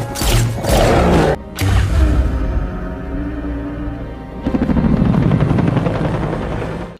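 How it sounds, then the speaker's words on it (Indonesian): A helicopter arrives in a scene from the 2018 film Rampage, its loud rotor chop and engine drone rising, with a brief break and crashing impacts early, then a heavy close thumping rotor that cuts off abruptly. "sebuah helikopter datang menembakkan bius yang membuat George pingsan"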